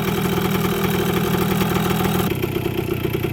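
A Kawasaki KE100 motorcycle engine running after being fixed: a close, loud, steady two-stroke putter with an even rapid firing rhythm throughout, alone without voices.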